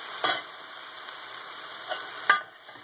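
Vegetables sauté in a pot over a nearly full high flame, a soft steady sizzle broken by a few sharp stirring scrapes and clinks, close by and fairly quiet.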